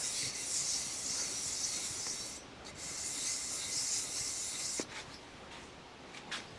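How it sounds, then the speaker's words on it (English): Sheet of 400-grit wet and dry sandpaper scrubs back and forth on a Yamaha 100 Trailmaster top-end engine part, rhythmic close rasping strokes with short pauses and a light tap. "This is 400 wet and dry sandpaper."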